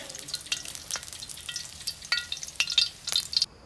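Chili and garlic stir-fried for Thai pad kaprao, giving soft crackling sizzle and scattered spatula scrapes and clicks against the pan, fairly quiet and with no voices.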